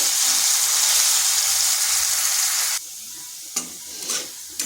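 Potatoes fry in hot oil with a loud, steady sizzle that drops away suddenly. Afterward a few sharp stirring scrapes and clinks come through over a quieter background.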